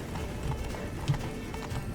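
Horse hooves clip-clop steadily at a riding pace in The Witcher 3, close and continuous, with a faint voice briefly in the background.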